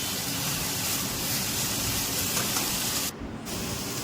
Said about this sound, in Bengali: এবার ভালো করে লতিটা কষিয়ে নিতে হবে।